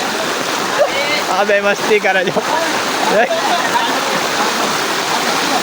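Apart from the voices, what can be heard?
floodwater rushing after heavy rain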